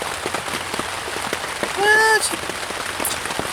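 Rain patters steadily on a campsite tent in a rainy Osage campground, a soft continuous drumming with scattered louder drops, while a voice briefly speaks over it.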